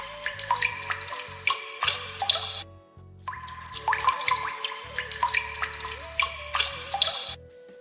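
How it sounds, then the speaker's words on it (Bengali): Banana leaves are rubbed and washed under running tap water, a steady close splashing and trickling with drips, pausing briefly midway before resuming. "পাতাগুলো পরিষ্কার পরিচ্ছন্নভাবে ধোয়ার পরে আমি ডলে ডলে ধুচ্ছিলাম"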